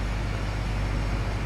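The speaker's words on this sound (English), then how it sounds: "You can hear his engine actually revving as well." A Volvo 7900 bus engine revs in the video game Bus Simulator 21, droning loudly and steadily, a thick continuous rumble with no pauses or voices.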